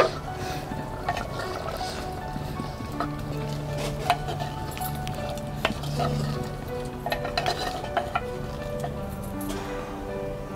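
Cumin powder sizzles and is stirred into a beef tongue and potato curry in a pan, with steady frying hiss and repeated scraping stirs against the pot, close and continuous throughout.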